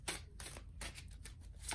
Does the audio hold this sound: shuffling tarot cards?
yes